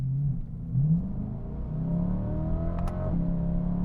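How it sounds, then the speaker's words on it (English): A 2020 Corvette C8 Z51 with an eight-speed Tremec dual-clutch accelerates, its engine note climbing steadily through gear changes, heard from inside the moving car with a smooth rising drone and no talk. "We're going to drive it and see how all of these parts add up on the C8 Z51"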